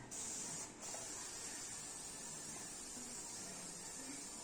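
A sprayer hisses steadily near aquascape aquatic plants, a continuous loud spray with a brief break just before the one-second mark, then running unbroken to the end.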